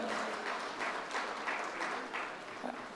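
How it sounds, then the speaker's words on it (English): Applause from an event audience celebrating a chapter award at a Women's Day gathering: a moderate, fairly distant round of clapping that holds steady for a few seconds, slightly thinning toward the end. "can we have a thunder round of applause for the ICI Dubai chapter?"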